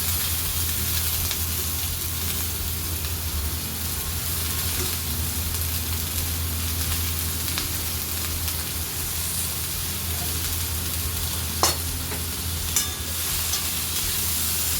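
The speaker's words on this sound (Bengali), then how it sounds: "এরপর কেটে রাখা বাঁধাকপিগুলো কড়ায় দিয়ে দেবো।" Chopped cabbage sizzles in a hot kadai with spices, a steady, dense frying hiss that runs throughout at even loudness, with a couple of faint clicks near the end and no speech.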